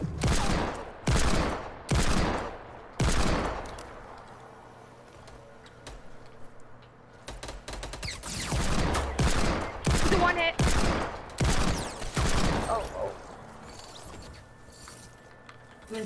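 Desert Eagle pistol fire in a video game: loud, close bursts of shots repeat in clusters, with mechanical clicks and faint game noise between volleys.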